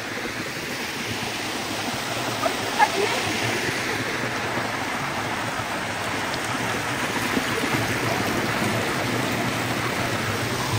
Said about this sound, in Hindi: हम नदी में उतर गए, मतलब वाटरफॉल झरना